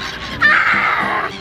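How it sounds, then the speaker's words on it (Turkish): Someone shouts loudly on his mother's request during a playful shouting session at home, one sustained high yell of about a second that rises abruptly and then breaks off. "Bağır anne için bağır."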